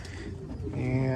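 Racing pigeons give close, low, throaty cooing that swells toward the end of a short moment.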